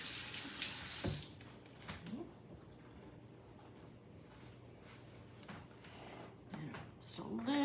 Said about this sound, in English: I'll wash my hands off a little.